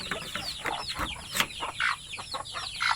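Native chickens and their chicks clucking close by on a farm, a busy stream of short clucks and high peeping calls overlapping one another without pause.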